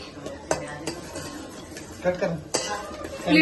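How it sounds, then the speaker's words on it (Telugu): A metal spoon stirs cashews frying in ghee in a pan, giving a few sharp clinks and scrapes against the metal over a low background, with faint voices nearby. "ఫస్ట్ గీ వేసి కాజు ఫ్రై చేస్తుంది"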